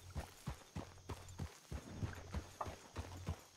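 Horse hooves clip-clop at a steady walking rhythm in Project 1920, the video game, each beat distinct and fairly close, with faint background ambience between the steps.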